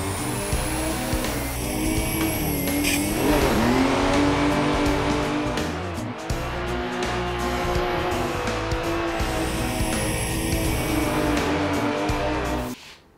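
A Toyota Supra drifts in the Assetto Corsa racing game, its engine revving hard with tires squealing continuously through long sliding runs, loud and close throughout.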